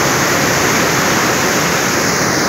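Rushing water pours steadily in a loud, continuous broadband roar, close and unbroken, like a small waterfall or fast channel with no voices over it.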